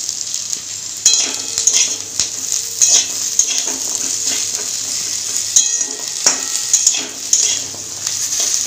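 Jackfruit seeds fry in a pan with cumin, garlic, onion and dried red chillies, giving a steady close sizzle broken by scraping stirs and occasional light clinks of a utensil, with no voices.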